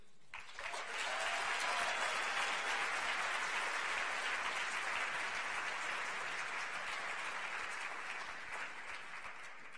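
Sustained audience applause welcomes speaker Maureen O'Connell at the Ignatian Family Teach-In for Justice, a dense wash of clapping from a large crowd that rises quickly, holds steady and fades slightly near the end.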